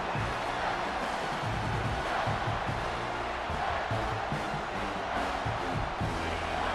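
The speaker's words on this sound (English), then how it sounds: "This crowd rising up, sensing that its defense needs some help." In a College Football 26 video game, a stadium crowd makes a loud, dense, unbroken roar that keeps rising, with no clear break.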